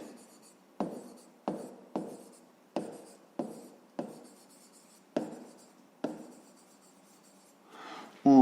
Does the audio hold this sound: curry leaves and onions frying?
no